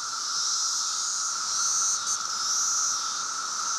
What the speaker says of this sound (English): It's the summer sound of cicadas